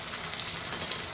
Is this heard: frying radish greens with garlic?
yes